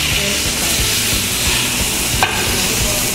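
Pork searing in a Moulinex pan gives a steady, loud broadband sizzle with a low rhythmic rumble underneath and one brief sharp click partway through, no voices.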